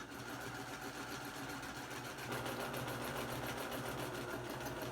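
A sewing machine runs steadily while stitching a raw-edge appliqué placemat, its needle close to breaking; a dense, continuous mechanical whir that grows slightly louder partway through, with no talk.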